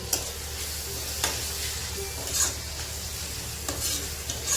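A paste of garlic, ginger, coriander and green chilies sizzles steadily in a hot pan, with occasional scraping stirs cutting through the continuous close frying hiss.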